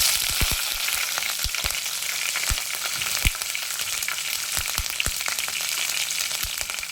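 Cinnamon, curry leaves, bay leaf and green chillies sizzling in hot oil in a pan for egg rice, a continuous crackling fry with sharp pops and spits scattered throughout, no talking.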